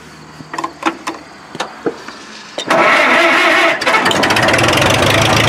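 A Farmall MD tractor's diesel engine is cranked after a few clicks and clunks, then catches and settles into a loud, steady idle close by.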